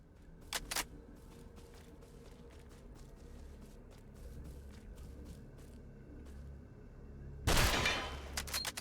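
A sniper rifle shot in the video game STALCRAFT 2 rings out as a single sharp, loud blast near the end, after scattered faint mechanical clicks.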